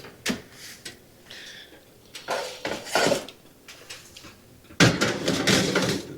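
A metal baking pan of potatoes dressed in olive oil and salt slides into a 400 Fahrenheit convection oven, with close clanks of metal on racks, a few rattles and a thud of the oven door.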